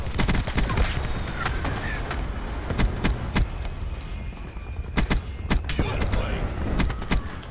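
An ACR rifle fires on rapid fire in Black Ops 4, with dense bursts of gunshots and a few brief pauses. Other gunfire and game effects mix in, and a voice is faintly present.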